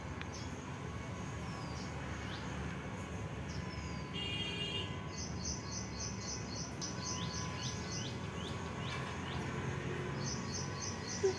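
A small bird chirps in short repeated bursts, fairly faint over a steady background hum, with a run of quick tweets toward the middle.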